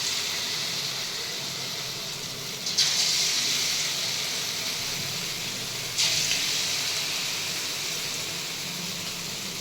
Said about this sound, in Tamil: எண்ணெய் பாருங்கள் காஞ்சிட்டு இருக்குது. இப்போ நம்ம எடுத்து ஒவ்வொரு பீஸும் போடுவோம்.